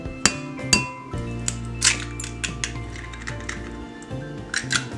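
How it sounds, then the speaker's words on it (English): Eggs being cracked and beaten in a separate container for a dairy-free pumpkin pie, heard as a series of close, bright clinks and taps against the container, irregular and unaccompanied by talk. "In a separate container, you're going to want to crack open 2 eggs and beat them slightly."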